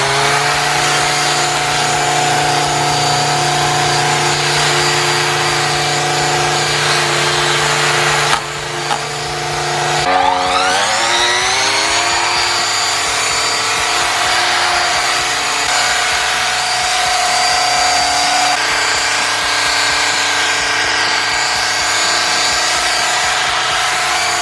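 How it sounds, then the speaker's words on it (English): A petrol string trimmer fitted with a Tri-clone trimmer head buzzes loudly and steadily while trimming light grass around house landscaping, its whine dipping briefly, then climbing back up and holding. "use it a little bit around the landscaping of this house and just see how it does with some light grass trimming"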